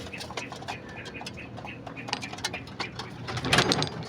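Pigeons calling close by, a run of short throaty coos and squawks in irregular bursts that grow louder and busier toward the end.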